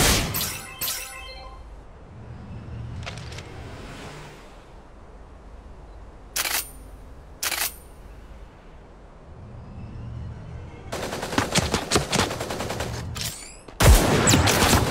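Gunfire rings out in the mecha battle game Super Mecha Champions: scattered single sharp shots and short volleys, then a dense crackling burst near the end, loud against a quieter rumbling background with no talk.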